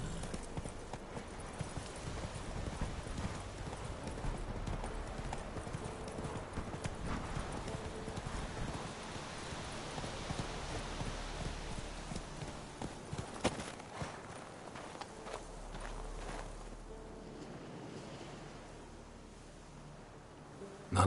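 Hooves of Roach, Geralt's horse in a Witcher video game, clip-clop in a steady walking rhythm throughout, moderately close, with a soft ambient bed and a snort near the end.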